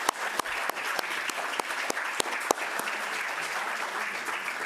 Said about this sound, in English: Let me ask you to give them all another round of applause.